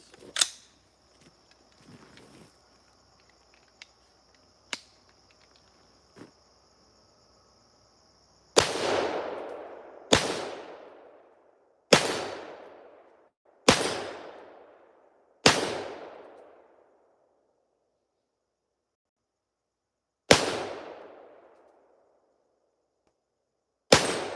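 Seven sharp, loud shots from a Daniel Defense AR rifle fired in a backyard, spaced irregularly with ringing decays. Quiet handling clicks come before the first shot.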